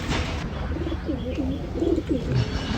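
Pigeons returning into their open coop give soft repeated coos, several low throaty calls in quick succession, close by over a steady background hum.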